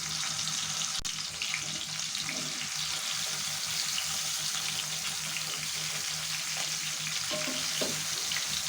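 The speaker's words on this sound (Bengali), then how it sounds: "এখন আমি মিডিয়াম করে হালকা ভেজে নেবো" Turmeric-coated desi koi fish fry in hot oil over medium heat, giving a steady, close, continuous sizzle and crackle with no talk.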